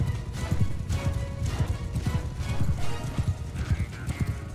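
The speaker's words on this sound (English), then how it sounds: "Ride, horse, ride!" Horse hooves clip-clopping at a gallop in Mount and Blade 2: Bannerlord, a rapid steady rhythm, with a neigh mixed in.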